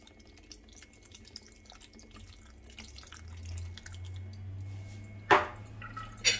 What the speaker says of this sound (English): Now let's add the carnation milk.